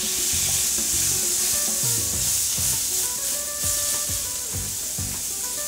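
Four-pound prime rib searing on a grill at about 400 degrees, a loud continuous sizzle and hiss with repeated scraping and stirring knocks, close up and without talk.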